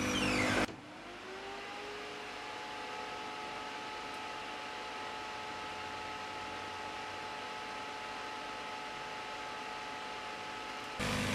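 A solder fume extractor fan switches on after a moment and runs with a steady, close, even whir and faint tonal hum, then cuts off at the end.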